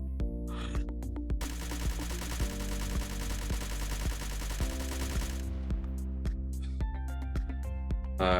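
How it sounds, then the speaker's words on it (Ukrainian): Rapid automatic fire from a 5.56x45mm assault rifle with a suppressor in the video game DayZ rattles in a long continuous burst at 20 meters, with sharp single shots before and after, loud and close. "Стріляємо на відстань 20 метрів, контролюємо віддачу."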